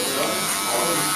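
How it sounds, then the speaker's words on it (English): A Wahl cordless Magic Clip hair clipper with the lever closed runs with a steady, close electric buzz, continuous and even throughout, with no talk over it. "using my cordless magic clips"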